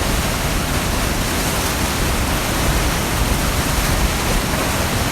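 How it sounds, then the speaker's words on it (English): The waterfall at Feather River Fish Hatchery, about 30 to 40 feet tall, roars as a loud, unbroken broadband rush of falling water, close and steady with no other sounds. "another wonderful shot of this waterfall, which seems small there, but it's actually about 30 or 40 feet tall"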